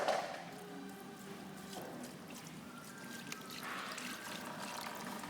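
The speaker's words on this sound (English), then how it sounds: "I'll pour some water in there and show you how the water can get away." Water poured into a puddle flange hole and draining away, a steady soft trickling and gurgling flow that continues for several seconds, fairly quiet and close, with no talking.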